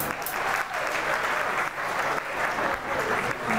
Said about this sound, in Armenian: բրավո ծափերը բարձր!